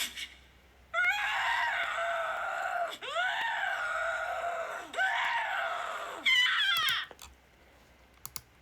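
Shrill screeching screams from a witch-like woman in a Halloween horror story, several long, piercing wails in sequence with brief pauses, ending in rapid broken shrieks and a few sharp clicks.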